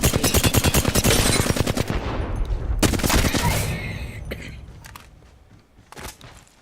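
Assault rifle hip fire in the battle royale game Apex Legends: a fast, rhythmic automatic burst, loud and close, then a second shorter burst, then the shots taper off with a brief final shot near the end.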